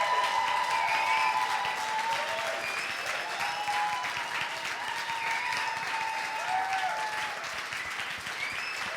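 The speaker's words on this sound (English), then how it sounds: "So another big applause for all our amazing teachers." Applause from a crowd honouring teachers at a graduation or alumni gathering, steady continuous clapping at moderate level, with faint voices and murmurs mixed in beneath.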